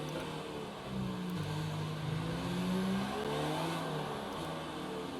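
F1 race cars in a video game roar through the final lap of a Brazilian Grand Prix league race, their engines holding a steady, rising and falling whine at moderate level with no voices.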